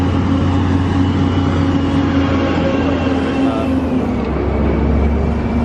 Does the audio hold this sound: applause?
no